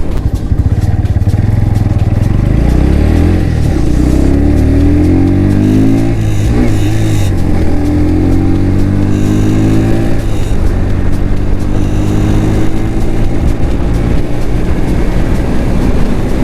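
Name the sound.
Bajaj Pulsar NS 125 motorcycle riding on highway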